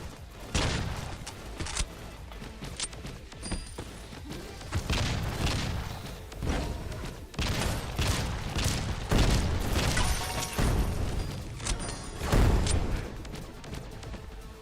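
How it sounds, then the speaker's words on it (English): Sniper shotgun blasts in the Skillshot City roguelike battle royale, a run of loud, booming shots with sharp attacks spaced irregularly over dense game noise and explosions. "The sniper shotgun."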